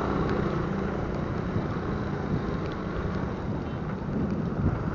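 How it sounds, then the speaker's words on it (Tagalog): Steady, heavy rainfall hissing loudly and continuously, with scattered drop impacts and a low rumbling undertone, no voices. "Lumakas na naman ang ulan!"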